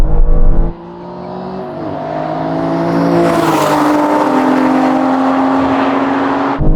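Aston Martin V12 cars rev hard at the start of a drag race, a loud close roar rising steadily in pitch over several seconds as the engines climb through the revs.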